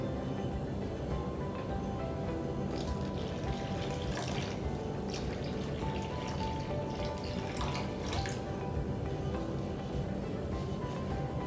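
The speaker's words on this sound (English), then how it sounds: "Then add the water to the bowl." Water poured into a bowl for a goo science experiment, a quiet, continuous splashing trickle lasting several seconds at low level.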